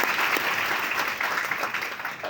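Steady applause from a university audience at a USP Multan event, a dense continuous patter of many hands lasting the whole moment and easing slightly near the end.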